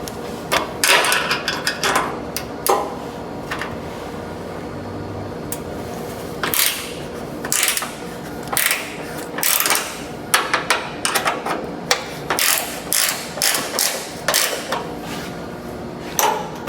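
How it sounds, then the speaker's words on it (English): A ratchet wrench backs out an 8mm hood bolt on a Fox Body Mustang, giving repeated short bursts of close clicking strokes with brief pauses, over a steady low background hum. "it takes an 8mm to back this bolt out"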